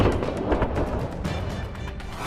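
Anti-tank guided missile explosion in a war zone, heard as a loud, rumbling, broadband roar that sustains for a couple of seconds with scattered crackling bursts and no clear single onset.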